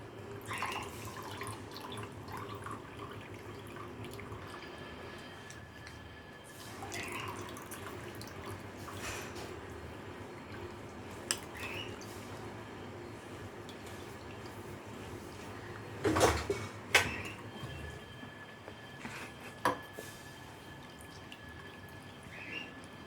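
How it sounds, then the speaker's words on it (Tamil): Juice dripping through a strainer into a tumbler, soft irregular trickles and drips, faint and close, with a few brighter splashes near the end. "ஒரு வடிகை எடுத்து அடியில் டம்ளர் வச்சு ஃபில்டர் பண்ணுங்க."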